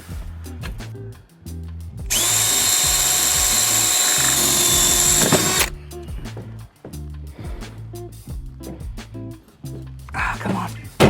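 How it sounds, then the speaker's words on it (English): A power drill bores a hole through a planter, giving one steady high whine that lasts about three seconds, framed by bumps, handling clatter and a person speaking nearby. "We've drilled our hole."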